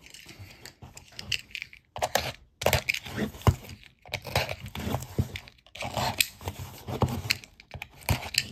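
Packing tape on a jewelry parcel is cut and torn open in repeated bursts of crinkling, scraping and ripping, close by, with short quiet gaps between strokes.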